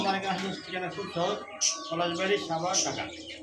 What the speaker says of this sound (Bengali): আমরা কবুতরগুলো শুধু দেখাইছি